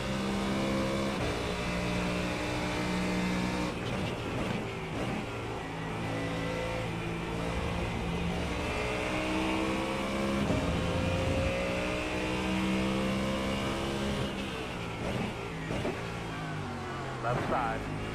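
GT3 race cars, including a McLaren, roar through an iRacing race, engines whining up and down through the gears as cars run close together, with talk over the continuous engine noise.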